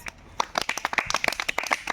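Children clap their hands in a classroom, a quick scattered burst of sharp, fairly close claps running unevenly for a couple of seconds.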